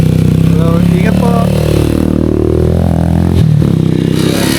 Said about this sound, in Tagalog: Trail bikes.